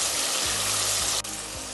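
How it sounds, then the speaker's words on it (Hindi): Masala sizzles loudly as it fries with soy sauce in a pan, a dense, steady hiss close up that drops briefly for a moment, with no talking. "बाद में हम ऐड करेंगे one table spoon soya sauce अच्छे से भून लेंगे इसको"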